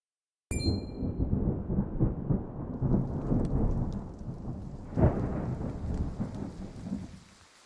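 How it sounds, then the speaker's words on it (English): Rain and thunder in the video game Triangle Strategy, a sudden sharp crack opening into steady heavy rainfall, with a loud thunder rumble midway and the downpour continuing, alone without voices. "Rain! Honest to goodness, rain!"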